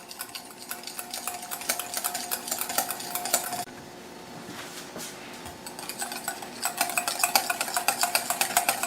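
A spoon scrapes and clinks steadily around a pan as a thickening sauce for Mexican street corn is stirred constantly, with a brief quieter pause midway before the rhythmic stirring resumes.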